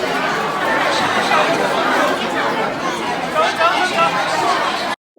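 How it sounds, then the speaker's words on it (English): A dense crowd of Chinese people chatters together on a Yangtze River trip, many overlapping voices close and loud, cutting off abruptly at the end. "you can hear what crowds of Chinese people sound like"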